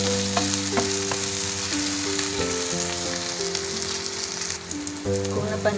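Onions fry in oil in a pan for chicken curry, a loud continuous sizzle with occasional stirring scrapes close by, no talk.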